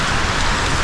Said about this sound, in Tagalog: Sana tumigil ng ulan.